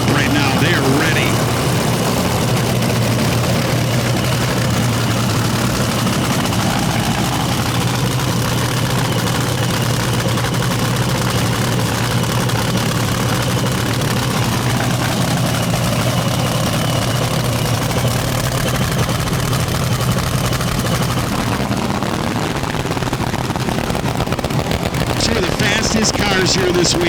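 Front-engine Top Fuel dragsters idling at the Northern Nationals 2022, a heavy low-pitched engine drone that holds steady and loud for nearly half a minute while an announcer talks over it.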